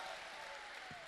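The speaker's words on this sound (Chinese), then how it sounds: "谢谢大伙的掌声鼓励" An audience at a crosstalk comedy show claps together in a faint, distant and steady wash of applause that continues evenly without breaks.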